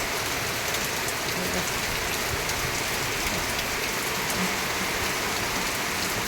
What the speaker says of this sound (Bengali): দেখো কি সুন্দর বৃষ্টি হচ্ছে